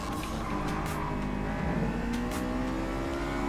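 A Honda S2000 revs hard in Gran Turismo Sport, its high-pitched engine wail sustained and loud, swelling and easing slightly over a few seconds.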